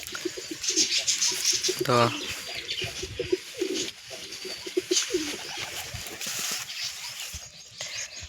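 Pigeons coo repeatedly in soft, throaty bursts close by, beside a nest box holding a male, a female and a chick, while someone talks over the calls.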